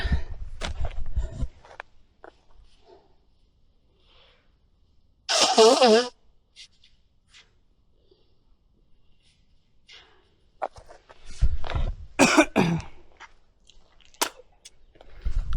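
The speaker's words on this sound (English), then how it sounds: "I gotta blow my nose 1 second." A loud nose blow in the middle, a short breathy honk, with rustling and soft handling noises before and after it.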